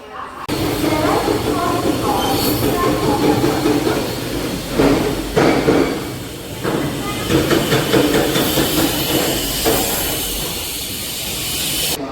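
The Secunderabad to Repalle Delta fast passenger express train gives off a loud, continuous hissing rumble with intermittent clanks and knocks, heard up close throughout.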